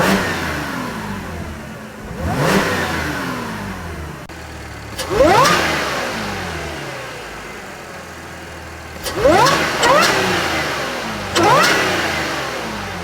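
A supercharged 2012 Audi S4 fitted with an APR open air intake revs in four sharp bursts, each rising in pitch and then falling back to a steady idle, loud and close.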